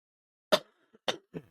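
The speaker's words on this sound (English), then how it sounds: "Those are the coughs I've been covering up because I've got a bad cough today" Three short, sharp coughs in a quiet room, the first loudest, then two more after brief pauses.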